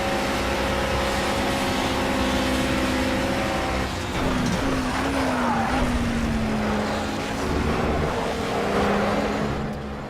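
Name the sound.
GT4 race car passing, video game Project CARS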